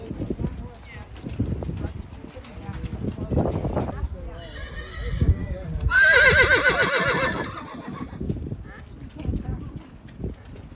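A horse at a mustang adoption event lets out a loud, shrill whinny in the middle of the scene, rising and wavering for about a second, with people talking nearby before and after and outdoor background noise.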